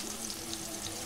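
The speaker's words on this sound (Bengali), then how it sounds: "রসুন আদা আমি খুব ভালো করে ভেজে নিয়েছি।" Garlic and ginger frying in oil for chicken balls, a brief soft steady sizzle heard up close.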